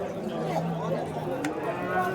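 Cattle and bulls low and moo amid a busy livestock market in Shahrikhan, Andijan, Uzbekistan, with murmuring voices and crowd chatter in the background.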